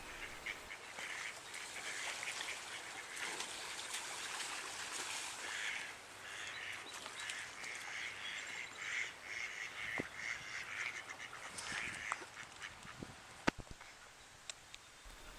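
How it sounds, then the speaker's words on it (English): Mallard ducks at a marshy lagoon quacking faintly in the distance, with scattered calls over a soft, steady outdoor background. "The female mallard is the one with the loud quack."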